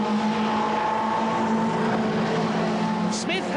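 BMW M3 touring cars racing at Silverstone in a 1989 British Touring Car Championship round, a steady loud engine drone with sustained tonal whine, shifting pitch near the end as a car passes.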